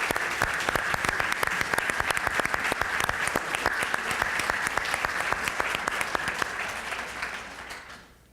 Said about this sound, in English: A nice round of applause to these wonderful panelists.